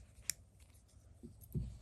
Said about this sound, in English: we're going to take our scissors and trim as necessary.